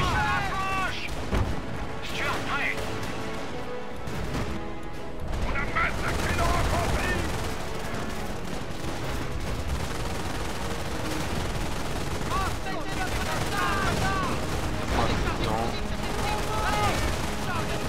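Sustained gunfire and artillery in the World War II strategy game Company of Heroes: Opposing Fronts, with machine-gun bursts and rifle shots rattling continuously under booming blasts, a voice speaking over the battle.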